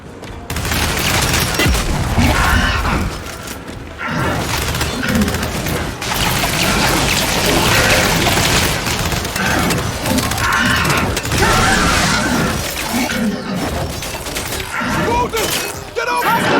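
A frag grenade blasts in the Gears 5 video game amid a steady barrage of gunfire and combat noise, loud and continuous with dense booms and crackle throughout, with voices in the mix.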